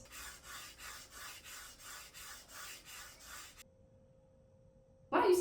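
Rhythmic back-and-forth rasping of sandpaper on a wooden puzzle board, about eight even strokes, then a pause and a brief louder scrape at the end.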